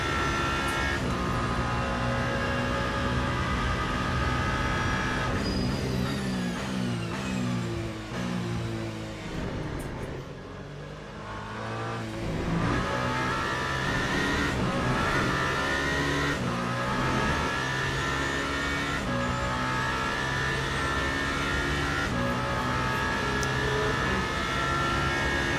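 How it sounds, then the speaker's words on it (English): A race car engine roars in a Le Mans racing video game driven on a sim wheel, loud and continuous, with rising and falling revs, a brief dip midway, then sustained high-pitched engine whine. "Man, I'm by far the fastest car on track."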